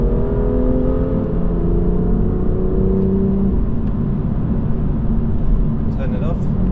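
BMW engine revving from inside the car with Active Sound Designer on, a loud, steady droning engine note that rises in pitch as the revs climb, with a rustle near the end.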